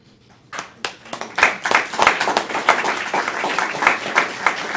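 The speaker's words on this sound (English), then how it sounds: "If we're going to clap for every one of Russ's awards, it's going to be a long night." An audience at an open house awards gathering bursts into clapping, starting with a few scattered claps and swelling into steady, moderately loud applause.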